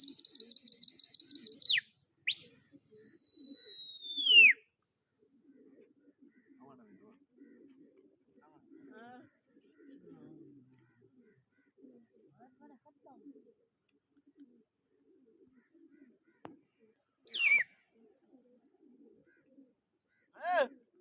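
Racing pigeons in a Punjabi sangat pigeon-flying contest give a few loud whistle-like calls at the start, then scattered faint coos and chirps over background murmur, with sharp bird calls returning near the end.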